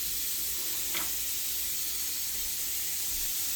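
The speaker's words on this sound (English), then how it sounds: "make sure your pan's hot. And throw all the beef and break it up in there" Ground beef sizzling in a hot pan, a steady loud hiss and crackle that holds evenly from start to finish, with no voices.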